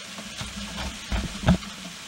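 Bread fries in a pan on an alcohol stove aboard a boat, a soft close sizzle with a few brief louder crackles and stirring scrapes, no talk.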